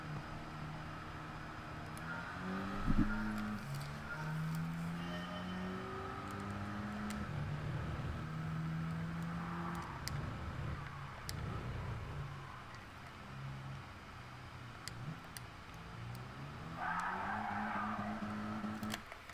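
Engine revving and tire skidding from a car in Gran Turismo 7, a steady rising and falling engine drone with harmonic sweeps and a brief sharp squeal or impact near the start, loud and continuous with no talking.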